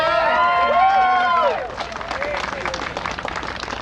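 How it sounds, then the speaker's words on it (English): Crowd applause and cheering at a Tea Party rally in Boston, starting under a loud sustained cheer or voice, then settling into scattered clapping and crowd murmur. "How about a round of applause for Christine?"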